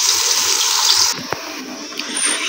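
Water pours steadily with a bright rushing splash, then shifts to a softer trickle with a few small clinks nearby.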